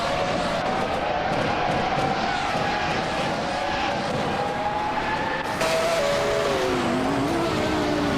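Engine of a Jordan 196 race car in a racing video game, a sustained, droning engine note with slowly shifting pitch that changes abruptly partway through as the car moves on.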